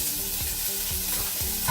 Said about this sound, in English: Saute for a few minutes.